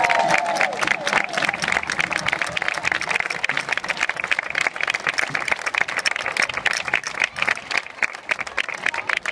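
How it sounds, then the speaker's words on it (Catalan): An outdoor crowd in front of Valencia's city hall applauds the Salvem el Cabanyal group during a street protest performance, a dense and steady burst of many hands clapping that carries on for over nine seconds, with faint cheering and voices mixed in. "Des d'ací un aplaudiment per a la gent de Salvem el Cabanyal!"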